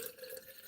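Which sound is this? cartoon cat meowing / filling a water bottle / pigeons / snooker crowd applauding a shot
filling a water bottle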